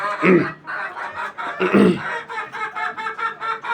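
Laying hens clucking close by in a couple of louder squawking bursts followed by a run of softer, rhythmic clucks, with a faint voice in the background.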